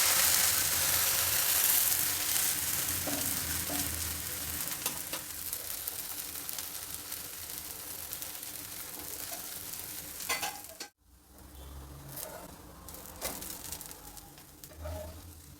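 Mixed-vegetable uttapam dosa with onion, carrot, coriander, beans and capsicum fries in oil on a pan, giving a steady close sizzle that briefly cuts out near the end and then resumes more quietly.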